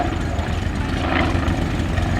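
Fokker D.VII biplane engine running steadily as the aircraft turns, a loud, continuous droning rumble with no break.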